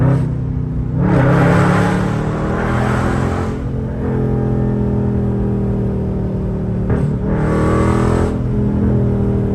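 A stolen SRT Mopar car's engine hums in a low, steady rumble from inside the cabin while driving, with two brief swells of higher broadband noise.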